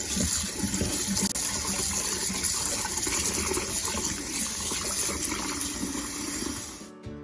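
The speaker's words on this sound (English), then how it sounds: "I'm going to wash and rinse my tomatoes really good." Tomatoes being washed and rinsed under a strong, steady stream of tap water for a red morita chili sauce, gushing loudly and continuously for about seven seconds before cutting off abruptly.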